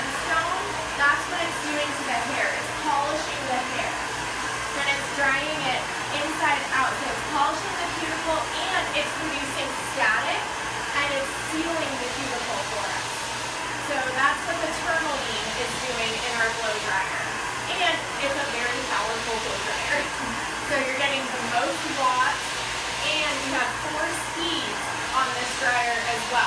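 A handheld hair dryer blows continuously during a haircut in a salon class, a steady airy roar with slight fluctuations throughout, with faint voices in the room beneath it.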